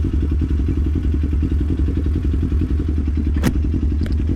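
A motorcycle engine idles steadily just after starting, a continuous close low rumble with light mechanical clatter, a brief sharp click near the end.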